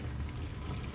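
Water is poured onto frozen anchovies in a home kitchen, a brief steady splashing rush heard close up, quiet and continuous for under a second.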